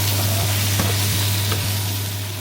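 Garlic and olive oil for Sicilian aglio olio pasta sizzle gently and steadily in a pan, a soft continuous frying hiss under a low constant hum.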